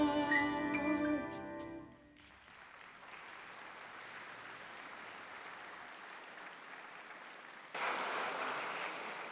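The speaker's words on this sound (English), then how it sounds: "Let's keep it going. One more big round of applause," A university convocation audience applauds a big band: a brief musical chord fades out, then sustained clapping from a large crowd builds and swells louder near the end.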